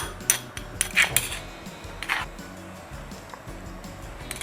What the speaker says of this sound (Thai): เราจะตำแบบพอหยามนะคะ จะไม่ตำละเอียดมากนะคะ